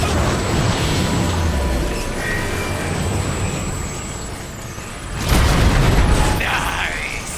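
A heavy gun blast rings out in Transformers: War for Cybertron, a loud booming burst over a constant din of game machinery and battle noise, with voices talking around it.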